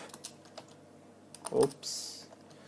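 A few quick keystrokes on a computer keyboard as a search is typed, soft close taps scattered over a couple of seconds, with a brief voice and a short hiss.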